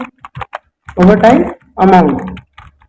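Quick key taps on a computer keyboard during Excel data entry for a salary sheet, a few close clicks, then a voice speaks over the typing.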